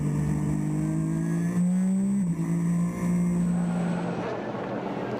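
Race cars roar past during the 24 Hours of Zolder endurance race in wet conditions. A loud, close engine whine holds steady, then drops in pitch as a car passes, with more engine noise trailing behind.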